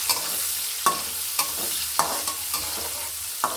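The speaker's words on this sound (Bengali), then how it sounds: "দিয়ে দিচ্ছি পেঁয়াজ কুচি দিয়ে দিচ্ছি কিছু কাঁচামরিচ তার একটু ভেজে নেবে" Chopped onion and green chillies fry in plenty of oil in a pan, with a continuous close sizzle broken by a series of sharp spatula scrapes and stirs at an uneven rhythm. No one speaks.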